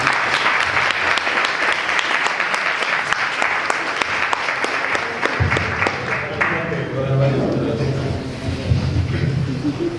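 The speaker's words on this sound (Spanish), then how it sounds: "Un aplauso para..." Audience applause at a talk or panel discussion, loud sustained clapping from a crowd that gives way midway to a voice speaking over fading claps.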